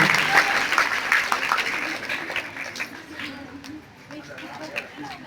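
Loud, dense clapping from an audience welcoming a guest at a government primary school's Independence Day program, crowd claps rattling close and steady, thinning slightly toward the end with faint voices underneath.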